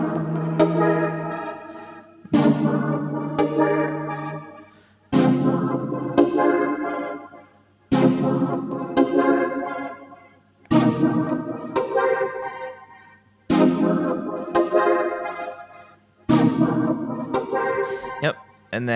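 Sustained keyboard chords from GarageBand step through a jazz progression that lands on a C altered chord, with seven loud, evenly spaced voicings struck about every two and a half seconds, each ringing out and fading over a low held bass note.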